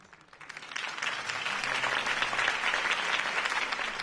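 Crowd applause after a campaign speech for Harvey Dent in Batman: The Telltale Series, rising from quiet to a dense, sustained roar of many clapping hands heard at some distance.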